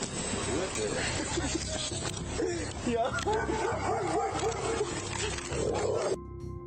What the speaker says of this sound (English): Officers responded to a parking lot where they could hear the dog barking nearby